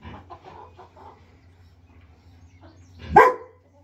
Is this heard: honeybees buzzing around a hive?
no